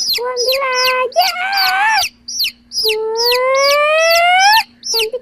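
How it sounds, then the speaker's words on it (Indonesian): A chicken, among colourful chicks, gives a run of loud, close calls, long wavering cries alternating with short clucking notes, with no talking. "Waduh, ayam apa itu ya?"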